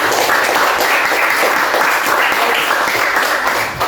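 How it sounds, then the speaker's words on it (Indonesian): Students in a classroom burst into steady, loud applause, a dense wash of clapping that continues evenly throughout before easing slightly at the end. "Tepuk tangan dulu untuk semuanya."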